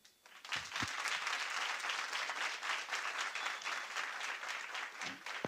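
A crowd at a science week STEM expo competition applauds a student presenter, steady dense clapping that rises quickly and holds evenly for several seconds before tapering off.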